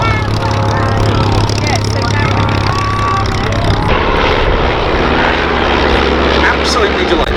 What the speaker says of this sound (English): Horsepower with the radial engines, generating speed up to 150 miles an hour.